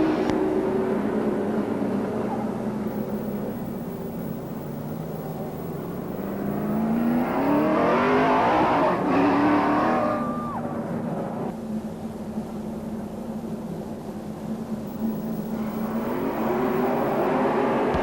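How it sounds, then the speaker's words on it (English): Pro Stock race cars at a speedway coming back on the gas out of turn four, a loud continuous engine roar that swells as the field passes and fades, with a rising whine in the middle. "Back on the gas, the Pro Stocks back underway. Off turn number 4."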